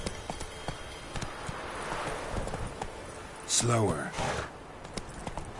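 Horse hooves clip-clopping in a PS4 video game, a steady gallop close up, with someone speaking briefly over it.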